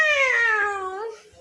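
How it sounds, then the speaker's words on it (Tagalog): A black cat gives one clear, drawn-out meow that slides slightly downward in pitch. It is close and loud over faint low background noise, with no talking during the call. "Ayan guys yung pusa, Black Higlet."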